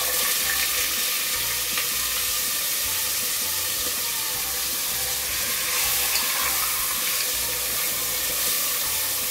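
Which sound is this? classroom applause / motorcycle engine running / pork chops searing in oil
pork chops searing in oil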